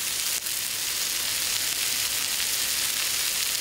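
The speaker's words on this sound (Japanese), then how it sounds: "炒めましたら" Steady, even sizzle of ingredients being stir-fried in a pan while cooking Ghanaian jollof rice, a continuous hiss with no break and no talk over it.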